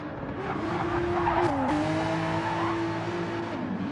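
Porsche and Lexus GT race cars in a video game, a steady loud engine drone holding pitch with a brief dip as one car slides and its rear wobbles, tire noise mixed in, no talk.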